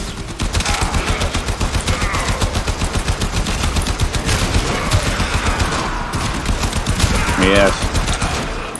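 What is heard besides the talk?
shotgun firing at point-blank range in the video game Warframe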